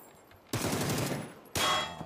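Two loud bursts of rapid automatic gunfire from a PUBG esports match, the first lasting about a second, the second starting after a short pause.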